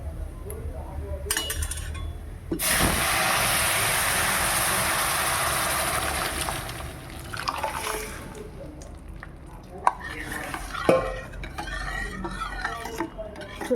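Dry red chilies, cumin, mustard seeds, curry leaves and garlic hit hot oil for a tempering, giving a loud, steady sizzle for a few seconds. Softer crackles and spoon clinks against the pan follow.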